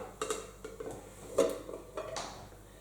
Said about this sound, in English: One more time, lid on top, get ready to flip that over.